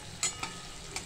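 Fennel and cumin seeds tempering in hot oil for okra, a soft close sizzle with a few sharp crackles and spoon clinks over the brief stretch.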